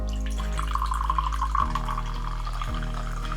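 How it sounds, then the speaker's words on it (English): Dark fizzy cola poured into an empty glass, a close liquid stream with rising pitch as the glass fills, bubbling and fizzing throughout. "Here's an empty glass, and here, the dark, fizzy cola being poured into it."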